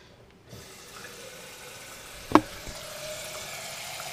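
Water poured into a glass, a soft trickling fill that starts after a moment of quiet, with a brief clink of glass midway and the flow continuing gently to the end.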